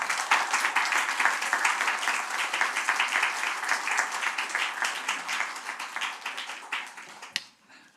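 A church congregation gives steady, fairly close applause to welcome a visiting professor, many hands clapping evenly before fading out near the end.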